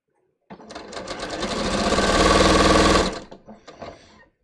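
A domestic sewing machine runs a steady burst of stitching on a bias-cut scoop neck top, building up over about two and a half seconds and then stopping, followed by a few short clicks and handling sounds.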